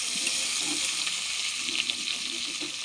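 Potato pieces seasoned with salt and turmeric frying in hot oil in a pan, a steady dense sizzle with faint crackles and soft stirring scrapes, close and continuous.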